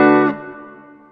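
An electric guitar chord through a Digitech Hardwire RV-7 stereo reverb pedal, struck once loudly, then cut short while a smooth reverb tail rings on and fades.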